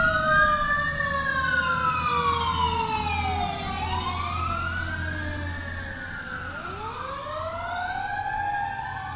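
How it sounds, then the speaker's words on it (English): A wailing emergency siren sweeps up and down repeatedly, fairly loud and steady, over a low rumble of road traffic with no talking. "Excuse the alarm, an ambulance coming by right now"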